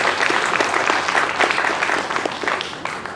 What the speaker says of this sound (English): Would you please give him a big round of applause?